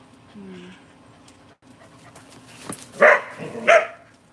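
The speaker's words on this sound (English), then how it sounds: "Tony, give the dog some chewables and enjoy the silence." A dog gives a couple of loud, close barks near the end, after quieter whining sounds, with faint background talk on a live stream.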